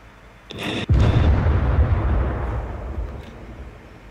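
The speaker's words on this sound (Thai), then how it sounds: "ระเบิดขวด" A bottle bomb in the video game SCUM: a sharp explosive burst followed by a heavy, rumbling boom that lingers and slowly fades, with no voices.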